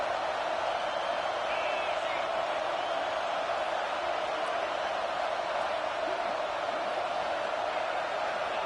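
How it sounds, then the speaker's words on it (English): A home crowd at a football game roars steadily, a dense, unbroken wall of cheering heard from within the stands throughout. "how nice is it to have the home crowd going absolutely bananas?"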